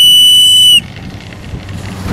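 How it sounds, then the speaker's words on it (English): A piercing whistle clipped to a snowboarding jacket shrieks loudly for under a second, then cuts off, leaving faint outdoor background noise. "You can just blow the whistle."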